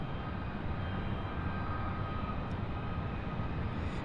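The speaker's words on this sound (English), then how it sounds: "I see that CRJ 900 lining up, so I'll get that takeoff here in just a second." A CRJ 900 jet takes off at SDF airport, giving a steady, broad low roar of engine noise that holds evenly throughout, heard at some distance.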